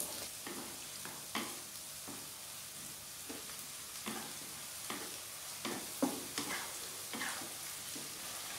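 Sweet soy sauce (kecap) hits hot oil in a pan and sizzles steadily, with a soft bed of frying noise broken by repeated scrapes and stirring clatters, close and moderately loud with no talking.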